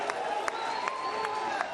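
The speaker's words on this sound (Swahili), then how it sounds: "Piga makofi." A crowd at a student political rally for a UDA comrades chapter in Nakuru claps briefly, light scattered applause with a few sharper claps, fairly distant.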